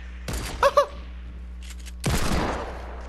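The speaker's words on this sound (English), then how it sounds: "you pulled out the shotgun" Shotgun blasts in Fortnite: a sharp burst of gunfire near the start, then a second loud blast about two seconds later, each followed by a short decaying tail amid game effects.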